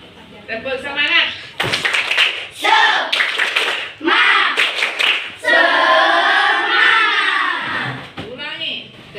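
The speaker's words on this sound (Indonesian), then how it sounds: "Tepuk semangat." A group, children among them, performs the 'tepuk semangat' clap chant in sharp bursts of rhythmic clapping between chanted and shouted voices, loud and close.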